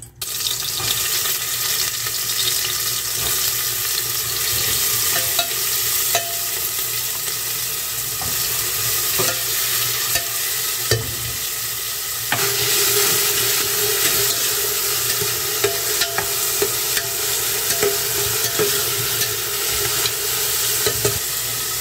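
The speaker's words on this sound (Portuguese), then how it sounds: "vou colocar uma quantidade boa aqui no fundo de óleo, pra refogar primeiro o pimentão que eu tenho" Bell pepper sautéing in plenty of very hot oil at the bottom of a pressure cooker, a steady close sizzle and frying hiss with occasional stirring clinks, heard alone throughout.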